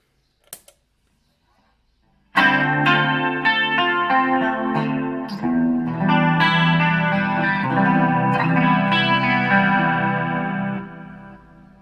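An electric guitar played through a chorus effect pedal on a pedalboard after the EQ and compressor, ringing chords with a shimmering, wavering tone sustaining loudly after a brief pause and a few faint clicks.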